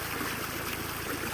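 Water surges and backflows through a 10-inch polyethylene irrigation pipe system, a dense steady rushing outdoors with no voices.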